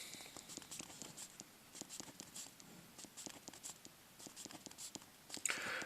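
Chalk or marker writing math on a board during an algebra lesson, a faint series of quick taps and short strokes in an uneven rhythm.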